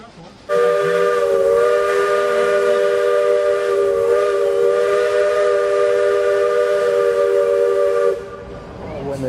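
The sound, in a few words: train passing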